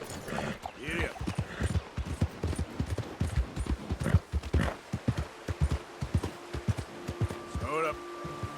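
Horse hooves clip-clopping at a steady gallop in Red Dead Redemption 2, a rapid thudding rhythm running throughout with a rider's voice calling out over it and a faint tone near the end.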